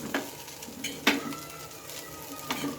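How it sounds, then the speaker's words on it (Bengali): Chow mein noodles and black pepper being tossed in a pan make a soft sizzle under a few sharp scraping and clinking stirs spaced irregularly, close by, with no talking. "গোলমরিচ গুঁড়োটাকে এবার আমি ভালোভাবে মিশিয়ে নেব"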